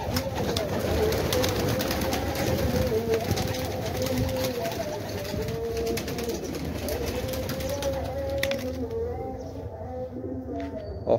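Pigeons in a loft coo steadily through a dense, continuous murmur of bird sounds, with faint rustling and occasional clicks over eleven seconds.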